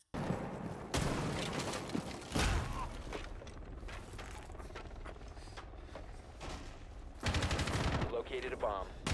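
417 rifle shots crack out in bursts during a tactical video game round, with loud repeated firing interspersed with mechanical clicks and other game sounds.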